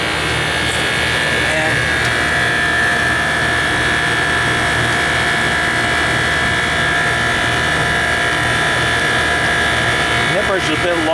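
A scroll compressor that replaced an old reciprocating unit runs loud and steady, a constant droning hum with a high whine, close by; a brief voice comes in near the end.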